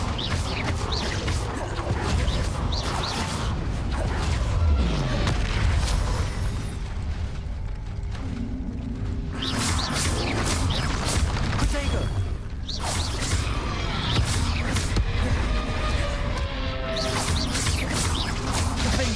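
Repeated Confringo blasting-spell explosions in the video game Hogwarts Legacy, dense booming bursts and crashes layered over continuous game music and combat noise throughout, with brief quieter lulls between volleys.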